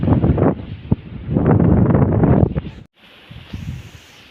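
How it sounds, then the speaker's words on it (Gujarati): Heavy wind buffets the microphone in loud, rumbling gusts, easing briefly near the end before a lighter, steadier breeze continues. "પવન બહુ વધારે છે"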